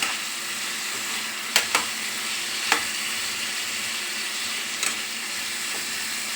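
Steady sizzle of potatoes and papad dal curry sautéing in a pan, with a few sharp scrapes and clinks of a spatula stirring at irregular moments; fairly close and continuous, with no voices.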